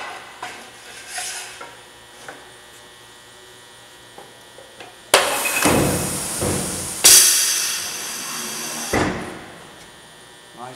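A UK-made Bantam 48-inch, 12-ton pneumatic press brake bends 13 gauge aluminum sheet: a steady low hum, then two loud, sudden rushes of air with metallic clunks, close by.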